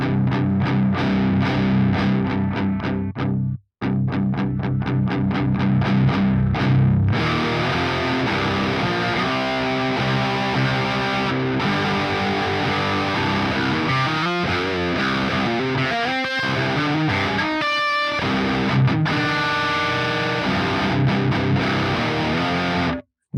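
Electric guitar played through a Boss DS-1 distortion pedal with the gain turned all the way up, giving thick, sustained chords and riffs that play continuously, loud and up close, with one brief gap near the start.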